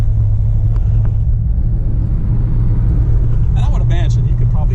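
A 1937 Packard 120 straight-eight engine pulling in third gear, a loud, smooth, continuous low rumble from inside the car, with a voice talking over it near the end.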